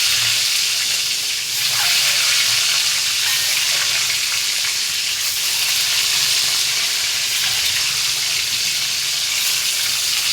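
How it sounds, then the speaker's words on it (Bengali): Eggs frying in hot oil for an egg and bottle gourd curry, a steady dense sizzle with crackling spits throughout, close and loud, with no talk over it. "ডিমগুলো সব একে একে দিয়ে দেবো, দিয়ে ভেজে আমি ডিমগুলো তুলে নেব"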